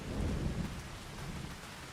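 Rain and thunder in the farming video game Farming Simulator 25, set in Western Australia: a steady, dense hiss of rainfall over a deep low rumble of thunder, continuous and fairly loud with no talk.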